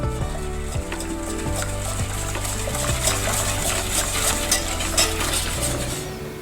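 Spoon stirring ube caramel icing with butter and violet ube coloring in a pan, steady scraping and clinking strokes against the metal with a soft bubbling sizzle underneath, continuous and close.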